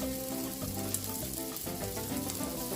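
Onions and then peppers fry in butter in a pan, giving a steady, close sizzle with crackling that holds at an even level throughout, with no one talking.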